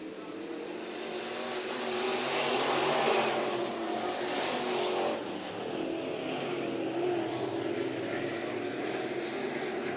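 Race cars in a heat race at Bakersfield Speedway during the Budweiser Nationals: a steady roar of engines that swells as the pack passes close by, then settles into a continuous drone, with an announcer faintly audible underneath.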